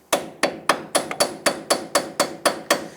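A hammer taps repeatedly on a socket over a badly rusted nut on a 2000-2006 Toyota Tundra front lower control arm, about a dozen sharp, evenly spaced metallic strikes close up.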